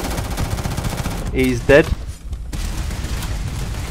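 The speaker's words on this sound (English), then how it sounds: "Who's shooting me, man?" Gunfire in the video game Starfield, a burst of rapid shots running under and around a voice, fairly loud and busy against game background noise.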